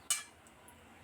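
A metal lid set on a pot of shing fish curry with potato and eggplant gives a single sharp, bright clink, close and fairly faint, then a couple of tiny ticks in a quiet kitchen.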